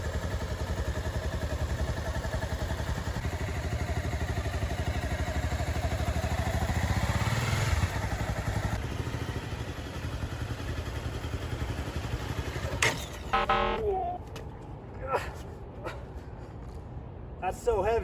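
A motorcycle engine runs at a steady idle, then rises as the clutch is let out and the bike pulls away, moderately close. People talk throughout.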